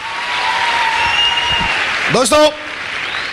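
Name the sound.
audience applause at a celebration speech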